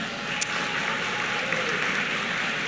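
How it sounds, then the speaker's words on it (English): Business awards audience applauding the judges, a continuous wash of clapping from a large crowd in a hall, steady and moderately loud throughout. "we'll give them a big round of applause"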